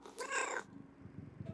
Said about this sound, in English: That's my cat, Eddie.